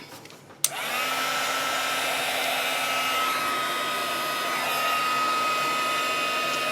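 A heat gun switches on with a click and then blows a steady, loud whirring roar for several seconds, melting embossing powder on a card.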